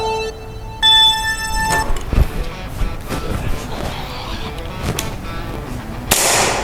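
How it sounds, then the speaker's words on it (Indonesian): Gunfire at a shooting practice session, sharp cracking reports with a couple of strong shots among lighter impacts and clatter, heard fairly close in an outdoor setting. "Sampai sini baru tembak lagi."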